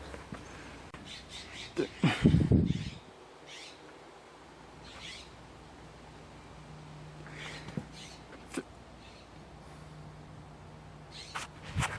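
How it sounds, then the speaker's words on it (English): Faint, brief bird chirps come scattered across a quiet garage scene during an engine swap on a Toyota 4Runner, with a louder knock early on and no one talking. "Fucking birds."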